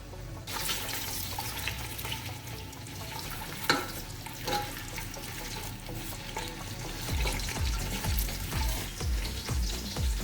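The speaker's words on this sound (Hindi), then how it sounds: "तकरीबन 6 टेबल स्पून मैंने ऑयल डाला है और इसमें ये छोटे साइज़ का मैं प्याज ऐड कर दूँगी" Small onions dropped into about six tablespoons of hot oil with carom and fenugreek seeds, giving a steady broadband sizzle and crackle, with occasional clinks and stirring scrapes growing busier toward the end.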